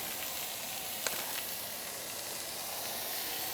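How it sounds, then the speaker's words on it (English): Taco meat frying in a pan on a grill at a tailgate, giving a steady, even sizzle and hiss throughout with one brief crackle pop, close and alone with no talk. "Oh, nice and sizzly"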